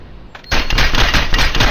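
Rapid automatic gunfire in the Battle glide video game, a loud burst of closely spaced shots after a quiet half-second lead-in, continuing steadily to the end.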